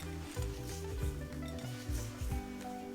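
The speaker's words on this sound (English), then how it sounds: "And I'm just going to shallow fry them." Breadcrumb-coated eggplant pieces shallow frying in oil for eggplant parmigiana, a close steady sizzle broken by frequent low bumps and scrapes of a pan or utensil.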